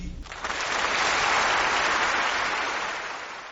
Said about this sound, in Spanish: Esos aplausos no son de Paul Robeson, sino nada menos que del Carnegie Hall